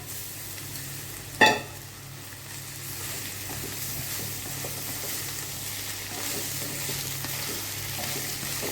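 Fried egg is being stirred into an onion masala samosa filling in a hot pan, giving a constant, even sizzle with one sharp utensil knock near the start. No voices.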